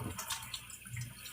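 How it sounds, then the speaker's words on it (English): Water runs from a tap while hands are washed in a home kitchen, a short, soft burst of splashing and trickling with no talk. "Wash my hands."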